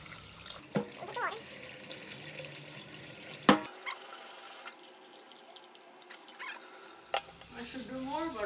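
Water splashes and trickles into a bowl of rice for soaking, with brief clinks and stirring noises, close by and moderately loud.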